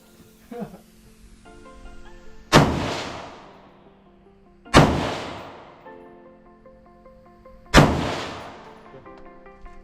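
At a shooting range at the Cu Chi Tunnels in Vietnam, a gun fires three loud, sharp shots about two and a half seconds apart, each followed by a ringing decay, with faint background sounds between them.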